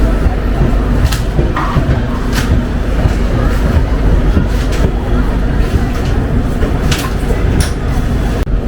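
The Mithila Express passenger train runs on rails from Howrah to Raxaul, heard from inside as a loud, continuous rumble with regular rail-joint clicks and clatter, and faint talk in the carriage.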